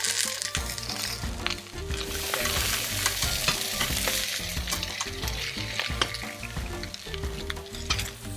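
Sausages, started in a cold frying pan, sizzle and crackle steadily while being stirred, with loud continuous frying hiss and occasional scraping and clinks of a utensil against the pan, no talking.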